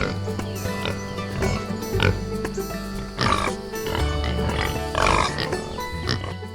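Free-range pigs on an outdoor farm grunt and oink repeatedly at close range, with several louder squeals and snorts standing out over a rustling, busy background.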